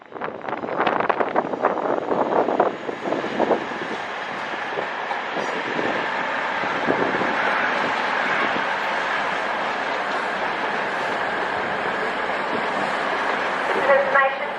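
Trains passing through Doncaster station, a continuous rolling rumble and rail noise with some wind buffeting, steady and fairly close throughout.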